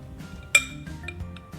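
A metal cake pan for an apple sauce cake being set into a home oven: a sharp metallic clink followed by a few lighter rattles and taps, close and fairly quiet.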